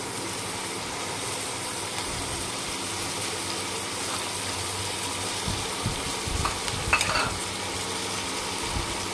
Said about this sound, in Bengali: প্রথমে আলুটাকে আগে ফ্রাই করে নেব।